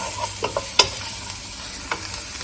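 Vegetables for a vegan dish frying in a pan as they are stirred, a steady close sizzle broken by a few quick scraping strokes of the spoon, with no talking.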